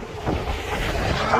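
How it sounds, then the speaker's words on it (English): Strong, frigid wind buffets a cyclist crossing a bridge into Minnesota, a steady loud rushing roar across the whole moment with no talking. "And it is so windy."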